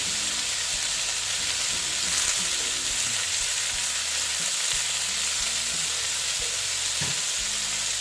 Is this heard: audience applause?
no